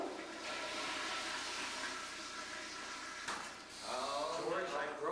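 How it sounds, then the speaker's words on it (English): A toilet flushes with a continuous rushing of water that swells and gurgles toward the end, heard at moderate distance in a comedy stage sketch, with voices faintly under it. "I better flush the toilet, George."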